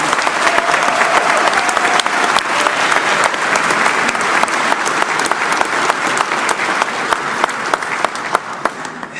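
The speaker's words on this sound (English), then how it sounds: "Can we have a big Brampton applause for Premier Ford?" A Brampton audience gives Premier Ford a big, sustained round of applause at a press conference, dense clapping filling the room steadily from start to finish with no talk over it.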